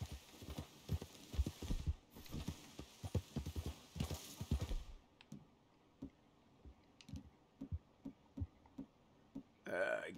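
Horse hooves clip-clop in Red Dead Redemption 2, first as a fast, busy patter under dense game noise, then as slower, evenly spaced single hoof strikes standing out clearly.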